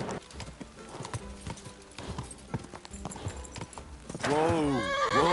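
Horse hooves clip-clop in a steady rhythm within a video game, close and fairly loud, with a horse whinnying near the end as someone talks over them.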